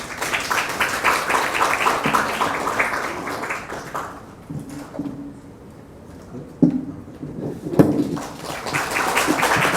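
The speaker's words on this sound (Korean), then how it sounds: "큰 박수 부탁드립니다" An audience at a Korean public forum on the safety of women's hygiene products applauds a presenter. Steady crowd clapping fills the first few seconds, then fades into a quieter room broken by a couple of thumps.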